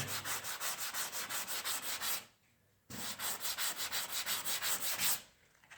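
Hand sanding of a wall to feather out a patch during wall prep, a close, rhythmic scratchy rubbing in quick even strokes, pausing briefly before resuming, with no talking.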